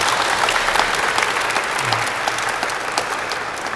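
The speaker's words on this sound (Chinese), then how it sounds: "是不是大家可以给我们海科馆一个掌声" An audience at a ceremony at the marine science museum in Keelung bursts into dense, steady applause from many hands that fills the room without letting up.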